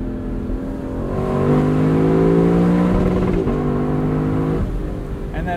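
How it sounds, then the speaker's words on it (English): A 2021 Lexus LC 500 Convertible V8 revs up loud and close, its pitch climbing and then holding steady as it bounces off the rev limiter before dropping away, heard alone from the driver's seat. "That has got to be one of the most intoxicating rev limiters on sale today"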